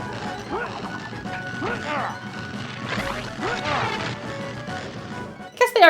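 A green crystal shatters in the video game Atlantis: The Lost Empire, a bright glassy crash bursting in at the very end after game voices and music, loud and sudden.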